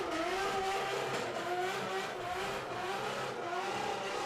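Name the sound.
drift car engine revving in first gear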